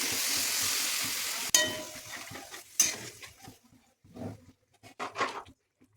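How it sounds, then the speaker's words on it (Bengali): Potatoes being sautéed with spices sizzle steadily in a pan, with sharp metallic clinks and scrapes of a utensil stirring them, close and fairly quiet. "এইভাবে মশলার সাথে আলুটাকে কষিয়ে নেবো।"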